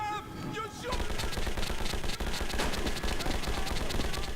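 Sustained rapid gunfire from a weapon in the video game Metro 2033, a loud dense burst of shots running continuously after a brief lead-in, with a voice speaking over the start.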